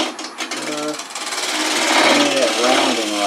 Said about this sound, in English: I think I'm going to do that with just a bit of a shear scrape.